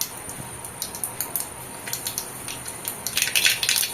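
Mustard seeds pop and crackle in hot oil for sambar, a scatter of sharp little bursts that quicken into a dense spluttering toward the end.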